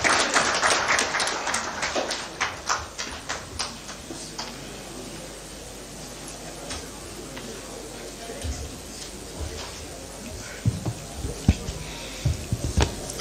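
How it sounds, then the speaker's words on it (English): Scattered hand clapping from attendees at a state roundtable engagement in Borno State, with sharp individual claps, thick at first, thinning in the middle, then picking up again near the end over a murmur of background voices. "Another round of applause for His Excellency, the Deputy Governor, please"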